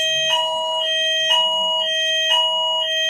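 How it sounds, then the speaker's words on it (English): During a fire alarm test, a building fire alarm sounds a steady electronic tone with a pulsing two-tone beep that repeats about once per second, loud and alone. "Sorry, that's just the fire alarm check."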